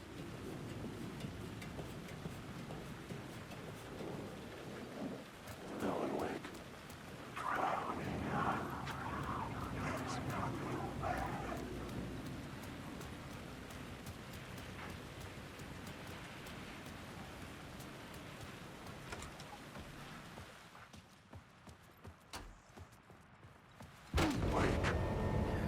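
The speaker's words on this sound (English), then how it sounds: "Rain tried to wash away the sins of this city." Rain pours over the city streets in the video game Alan Wake 2, a steady hiss of rainfall that holds evenly and dips quieter briefly near the end.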